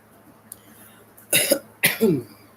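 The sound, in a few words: cough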